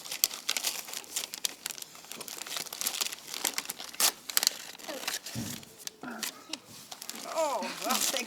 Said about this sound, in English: Can you open the card, Hannah?